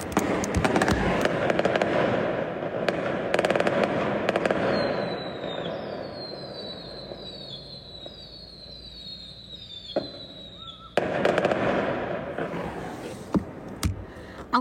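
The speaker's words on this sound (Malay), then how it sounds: "Ada bunga api." Fireworks crackle and pop in dense bursts, with whistling rockets rising in the middle, then more sharp bangs; loud and somewhat distant outdoors.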